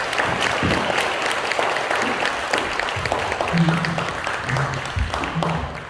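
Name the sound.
applause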